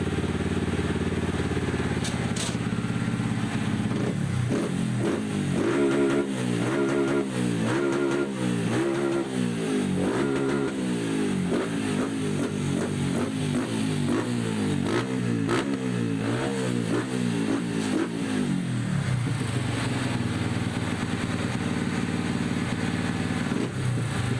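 A pit bike engine is revved repeatedly during ECU fuel tuning, rising from a steady idle into rapid, buzzing rev cycles with audible climbs and drops, then settling back to idle, loud and close throughout.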